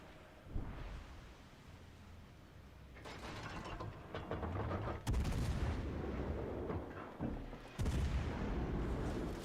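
Naval guns fire salvos in the World of Warships: Legends game, heavy booming blasts over mechanical clanking and whirring, with a few sharp loud bursts standing out against steady game noise.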